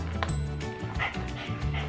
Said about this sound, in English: Sorry guys, you're barking all the time.